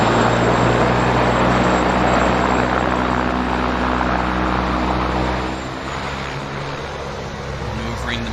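A de Havilland Otter floatplane's engine drones steadily and loud at close range as it taxis away from the dock in Vancouver Harbour, easing slightly in level partway through.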